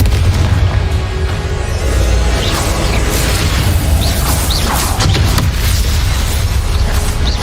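Spell explosions from Hogwarts Legacy: a loud, dense, continuous barrage of booms, blasts and magical bursts, with no pause between impacts.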